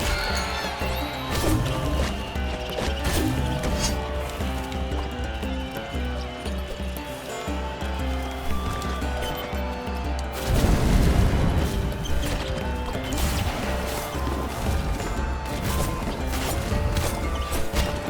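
Heavy booms and crashes from bombs exploding in the Tails of Iron II: Whiskers of Winter video game, a dense run of game impacts and clatter over steady music, with a bigger burst of blasts midway through.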